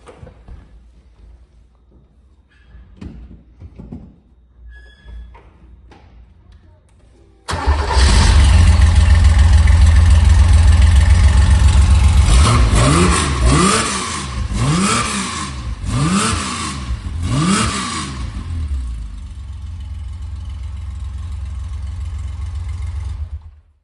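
A Porsche 911 RS fitted with race headers and an aftermarket rear silencer starts with a loud, sudden roar, settles into a rough idle, then blips through several sharp revs before dropping back to a steady idle, close up and without talk.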